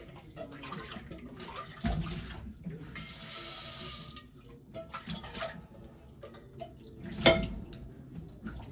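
Water runs from a kitchen tap into a sink as a cooking pot is rinsed while making Kenyan ugali at home: a steady splashing flow with louder surges and a sharp clatter near the end, with no talk.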